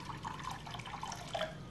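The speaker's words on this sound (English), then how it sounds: "So I'm going to pour this in." Tap water poured into a small shallow pan, a short, faint trickle and splash with light dripping, close by and alone.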